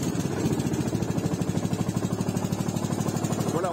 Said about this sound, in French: on a un moteur qui démarre plutôt très bien